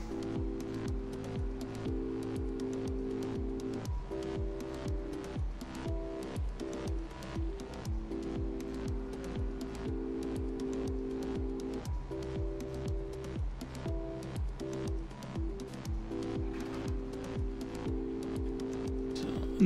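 Farm vehicle driving in the game Landwirtschafts-Simulator 17, a steady droning engine hum with rhythmic mechanical clicks and pulses running continuously, loud and alone without talk.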